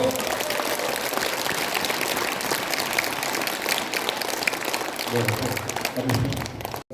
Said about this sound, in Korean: 다시 한번 회장님 박수